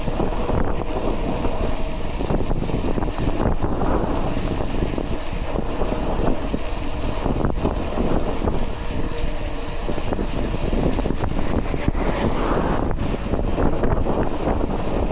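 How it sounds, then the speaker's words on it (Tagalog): Strong wind roars during a 70 km road cycling fondo, a continuous heavy buffeting rush across the microphone that persists throughout, loud and unbroken. "Lakas ng hangin, guys."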